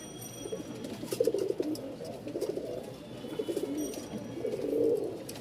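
Soft, low cooing from pigeons repeats in short rolling phrases, fairly close, with quiet background noise and no talking.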